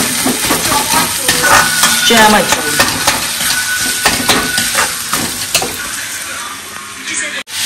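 Tomatoes frying in a pan with browned chicken while being stirred, a loud close sizzle with scraping utensil strokes that tapers toward the end.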